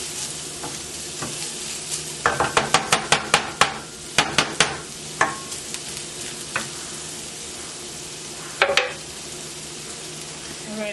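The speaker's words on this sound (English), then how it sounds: "Our grease is hot, so now I'm just adding in 2 ingredients. Gonna stir that around. We're gonna just allow this to saute for about 2 minutes." Two ingredients sautéing in hot grease in a pan, a steady sizzle under a run of sharp spoon-on-pan clacks as they are stirred, then a few scattered knocks before the frying settles.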